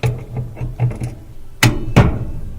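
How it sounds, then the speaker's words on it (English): Vice grips are clamped onto the motor pulley of a Frigidaire dryer, giving a quick run of small ratcheting clicks followed by two louder metallic clunks, close up with no talking. "I'm going to put the vice grips back on the motor pulley."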